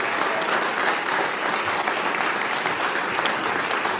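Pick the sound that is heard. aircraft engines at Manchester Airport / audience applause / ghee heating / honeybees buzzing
audience applause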